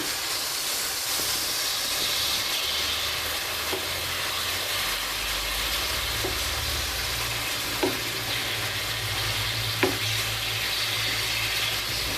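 Meat for homemade Iskender döner cooks in a covered pan with a constant soft steamy hiss, a low rumble underneath and a few faint clicks.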